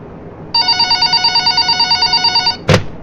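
In the video game Five Nights at Wario's Deluxe, a telephone rings in a rapid trilling electronic pattern for about two seconds, loud and close, then breaks off with a brief clunk as if picked up.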